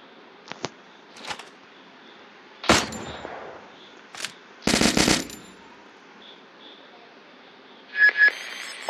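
Video game gunfire comes in short, sharp automatic bursts separated by quiet gaps, with a long rattling volley in the middle and a final quick pair near the end.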